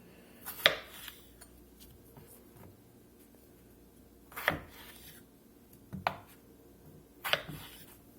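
A knife chops gold potatoes into wedges on a cutting board, four distinct sharp cuts spaced a couple of seconds apart, close and fairly quiet against a still room.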